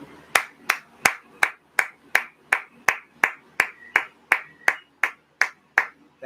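Steady, evenly spaced hand claps, roughly three per second, sounding like one or a few people clapping in time to music, crisp and close, with no voices over them.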